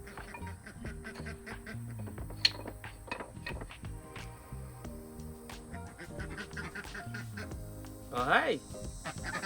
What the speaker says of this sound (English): here comes the ducks.